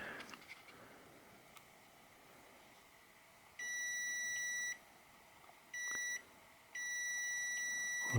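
A multimeter gives a steady electronic beep during a continuity check on the wiring of a Heat Storm Tradesman infrared heater with a bad switch. Three sustained tones sound, the middle one short, after a few faint clicks, with no voices.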